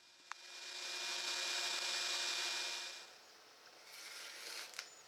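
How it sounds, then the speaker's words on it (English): A bandsaw cuts through wood along a marked line for a recurve bow limb form. A loud, steady hissing rasp runs for about three seconds, fades, then resumes more quietly with a few small clicks. No one speaks. "The bandsaw is used to cut along the line."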